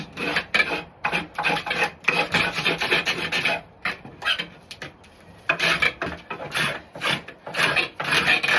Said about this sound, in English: I know a lot of people use spoke shaves for fine work, but I take a pretty deep shave in